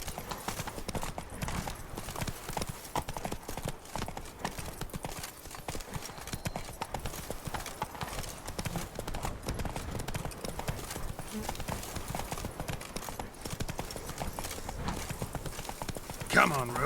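Roach, the horse in The Witcher 3, gallops steadily with a rapid, continuous clip-clop of hooves on the ground, heard up close throughout, with voices talking over the hoofbeats.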